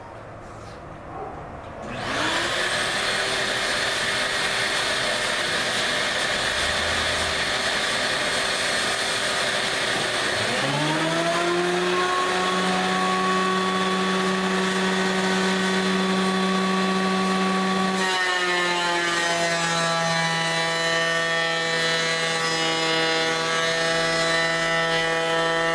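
A power tool spins up and runs loudly and steadily while a walnut or maple board is fed through it along a fence. The pitch drops under load and then changes again partway through.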